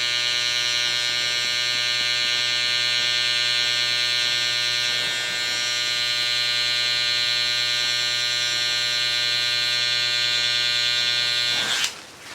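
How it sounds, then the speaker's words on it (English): An electric hair liner trimmer cuts hair during a buzz cut with an ice pick taper, giving a steady, close, loud buzzing whine that holds almost unbroken for about twelve seconds before cutting off abruptly. "I'm gonna go in with the liners now"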